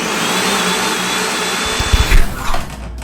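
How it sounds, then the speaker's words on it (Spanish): A kitchen blender whirs steadily and loud, then its pitch and load shift with a few thumping knocks near the end as the contents churn, with no talk over it. "La neta no soy muy fan ya de esta licuadora"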